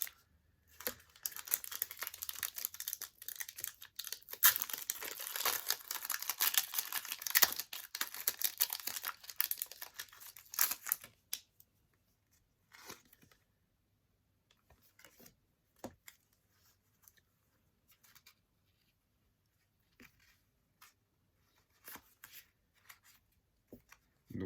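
Scissors snip and crinkle through a Pokémon card in a quiet room, a busy run of close, crisp cutting and rustling that tapers into sparse faint clicks and ticks.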